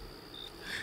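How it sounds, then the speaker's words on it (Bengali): Crickets chirp at night from a small jungle along a riverbank at the edge of a village, a steady high trill that sounds distant and fairly faint, with no other sounds over it. "দূর থেকে ঝিঝি পোকার ডাকের শব্দ শোনা যায়।"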